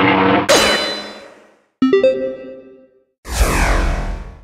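Shield power-up effect from the game Drunken Robot Pornography: a loud synthetic whoosh with a bright ringing chime, a clanging metallic hit with a fading ringing tail, then another swelling noisy burst, all alone without voices.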